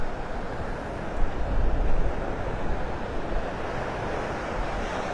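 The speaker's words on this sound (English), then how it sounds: "We're going to take a little walk down Vanderbilt Beach this morning." Surf rolls in steadily on Vanderbilt Beach in North Naples, Florida on a morning walk, a broad continuous wash of waves with wind buffeting the microphone, moderately loud and unbroken with no voices.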